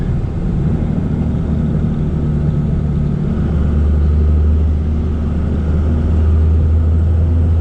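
Inside a 2001 Dodge Ram 2500 Cummins diesel pickup with a six-speed manual cruising in sixth gear, the engine gives a loud, steady, low droning rumble that holds even throughout.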